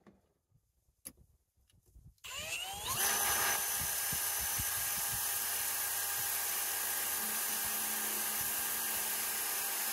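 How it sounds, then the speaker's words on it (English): An electric drill with blunt bits bores a pilot hole while fitting armrests to Transporter van seats. After a couple of seconds of quiet knocks, it spins up to a loud, steady high whine that runs close and unbroken to the end. "My drills are a bit blunt, so I have to pilot it."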